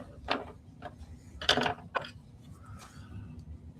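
A part is tightened on a GP 23 Fanhome scale model, heard as a few faint, close clicks and small mechanical ratcheting taps spread over a few seconds in a quiet room.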